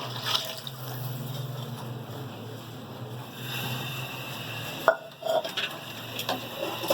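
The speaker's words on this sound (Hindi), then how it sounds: "ये 3 गिलास पानी है, ये इसमें मैं डाल दूंगी" Water poured from a glass into a pot of rice and moong dal for Hyderabadi khichdi, heard as a steady close liquid wash with a few sharp clinks of the glass against the pot toward the end.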